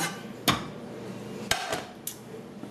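A big spoon clacks and scrapes against a dish while spreading a layered beef taco dip, giving three or four distinct sharp taps spaced about a second apart over a soft background.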